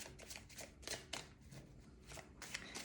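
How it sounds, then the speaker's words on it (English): Quick bursts of playing cards being shuffled for a card reading, flicking and riffling several times in a row at an uneven pace, close and fairly quiet. "I think we've given them a very good shuffle."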